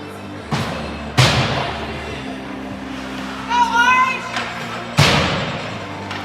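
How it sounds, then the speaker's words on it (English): Loud bangs and slamming doors ring out in an ice hockey arena during a youth game. There are three sharp, echoing slams, with a whistle and distant voices between them. "A lot of banging, doors slamming over there."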